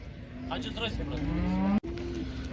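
A cow gives a long, deep moo close by, with a steady background murmur of a busy livestock market in Uzynagash, Almaty region, Kazakhstan.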